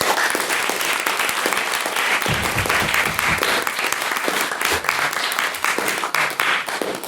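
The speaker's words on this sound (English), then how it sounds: "can I please get another round of applause for her mid speech?" Applause from an audience at a debate, a dense sustained round of clapping with some scattered louder claps, continuous for several seconds.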